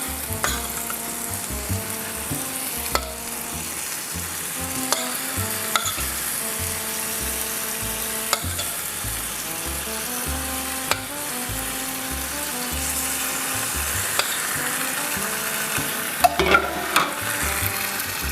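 Gravy sizzling on a hot sizzling plate of pork steak over a live flame, a steady loud crackling hiss with occasional sharp pops and spatters, close up with no talk.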